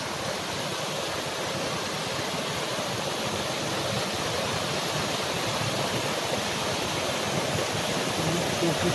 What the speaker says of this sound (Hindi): झरना तो इतना तेज है